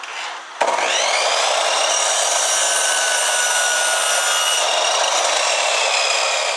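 A miter saw set to 20 degrees cuts through a wooden board, with a sharp start at under a second followed by a loud, sustained whining buzz of the blade biting the wood until the end.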